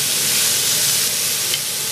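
Tomatoes fry in a pan with very little oil in a home kitchen in Spain, giving a steady, loud, close sizzle with a dense hiss that runs unbroken and alone throughout.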